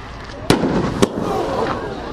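Fireworks at an outdoor display, two sharp loud bangs about half a second apart followed by crackling and rumbling that fill the background, with a crowd faintly present.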